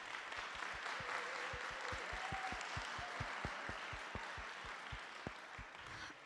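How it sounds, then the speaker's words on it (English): A conference plenary audience gives a round of applause to the table facilitators, with hearty, sustained clapping from a sizable crowd and a few louder individual claps standing out near the front. "Can we first of all get a huge round of applause for all our table facilitators?"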